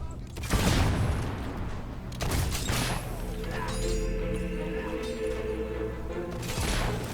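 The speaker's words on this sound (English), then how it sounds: "Down, rebel is firing!" Rebel gunfire in Fable 3, a few loud booming shots with crashing impacts spaced a couple of seconds apart, ringing mechanical tones between them, fairly close.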